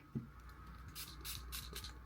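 Hair product sprayed from a can during a styling session, heard as two or three short, soft hissing spritzes in quick succession against a quiet room.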